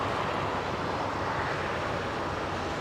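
A Turkish Airlines airliner in Star Alliance livery, inbound from Istanbul, descends to land at a German airport, giving a steady, broad jet roar with wind noise that holds at an even level throughout, with no voices.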